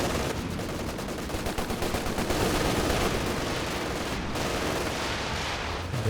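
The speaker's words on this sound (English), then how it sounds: "There goes the Stuka." Stuka dive bomber barrage in Company of Heroes 2, a dense, continuous roar of rapid explosive blasts and crackling gunfire-like impacts, loud and sustained with no voices.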